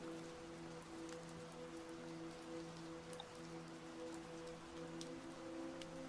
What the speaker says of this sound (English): the trickle of the rain